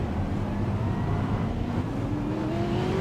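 Race cars on an oval at Lucas Oil Raceway roar in a dense, continuous engine wash, one pitch climbing as a car accelerates on a restart, loud and without speech.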